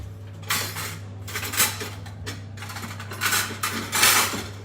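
A metal spatula scrapes and clatters against a pan while lifting cooked BBQ spare ribs, several loud rasping strokes over a steady low hum.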